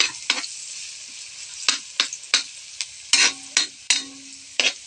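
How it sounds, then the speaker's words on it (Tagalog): Vegetables for lumpiang gulay being sautéed in a pan, with a steady sizzle broken by repeated sharp scraping stirs from a utensil, close and fairly loud with no talking. "gisa-gisa lang po tayo guys"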